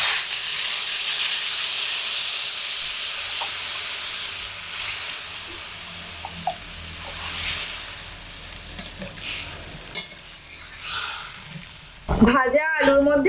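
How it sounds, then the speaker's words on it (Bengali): Hot water is poured into potatoes frying with turmeric, and a broad steady hiss and sizzle fills the pan for several seconds before fading, ending in a brief louder clatter. "এবার এর মধ্যে গরম জল দিয়ে দেব।"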